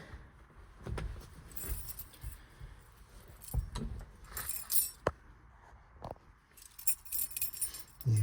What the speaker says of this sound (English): Keys in my pocket. So I've got the keys.